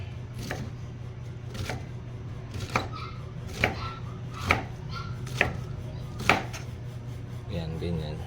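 Fried chicken is chopped into small pieces on a board, with a series of sharp, evenly spaced knife strikes over a low steady hum.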